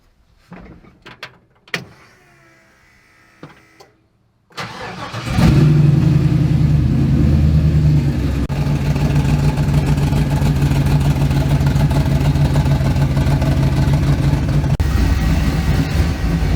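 After some quiet clicks and handling, a Duramax pickup truck's diesel engine cranks and fires, then settles into a loud, steady, rumbling idle that holds to the end.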